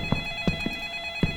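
A telephone rings in the horror video game Light Switch, a repeating pattern of short rhythmic bursts, fairly loud and close, with a steady electronic hum behind it.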